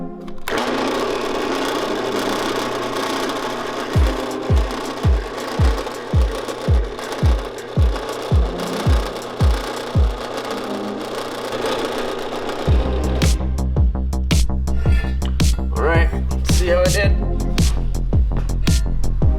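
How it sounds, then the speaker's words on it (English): A drill boring bolt holes through a Land Cruiser's steel frame: a loud, steady mechanical whine with regular rhythmic pulses, then a harsher, grinding tone as the bit bites deeper. "Let's get these holes drilled."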